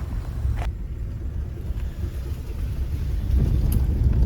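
A car drives toward Kuldhara village with a steady low engine rumble and road noise up close, some wind buffeting, and a slight rise in loudness toward the end.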